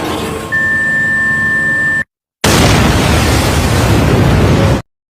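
A bomb planted at an airplane detonates in an anime: after a steady tone and hum, a brief silence gives way to a loud, sustained broadband roar of explosion lasting over two seconds before cutting off abruptly.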